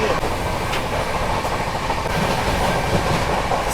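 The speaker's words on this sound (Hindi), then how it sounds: "यहाँ इस वक्त हम खुर्जा जंक्शन रेलवे स्टेशन को क्रॉस कर रहे हैं" Aboard the New Delhi–Ranchi Rajdhani Express passing through Khurja Junction, a steady loud rumble of wheels and carriages rolls on continuously with faint rhythmic clacks.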